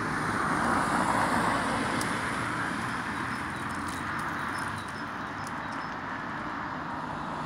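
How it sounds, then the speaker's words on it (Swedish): Monday-morning rush traffic streams around the Vällingby roundabout on a spring day, a continuous broadband roar of passing cars and buses that eases slightly toward the end, with no voices. "Så här ser trafiken ut här. En måndag morgon."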